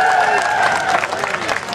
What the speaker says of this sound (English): You deserve to give yourself a round of applause.